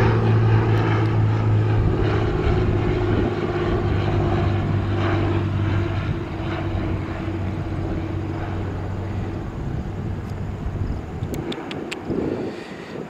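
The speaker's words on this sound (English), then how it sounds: "nice landing here of a Lancer Columbia 300" A Lancair Columbia 300 sport plane landing, its propeller engine droning loud and steady through the first half before easing lower and fading toward the end, with no talk over it.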